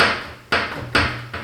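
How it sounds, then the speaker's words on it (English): A loose hinge on a glass shower door is wobbled back and forth, giving three close, hard clunks spaced about half a second apart, each with a short ringing decay. "here is the hinge, and as you can see, we can easily wobble it"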